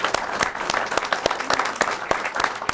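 Applause for an executive director at a public-access television station's annual meeting: steady, dense clapping from a seated audience, moderately loud and continuous with no talking over it.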